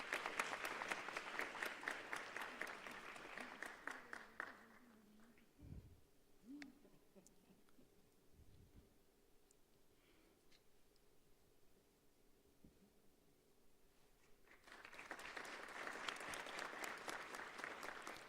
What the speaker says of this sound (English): We can give a round of applause, guys.